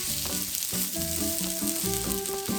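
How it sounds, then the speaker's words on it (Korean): Steady sizzling of onion and fish cake stir-frying in a hot pan over low heat, with a light melodic tune playing over it. "양파가 골고루 볶아졌다면 어묵 넣고 볶아주세요."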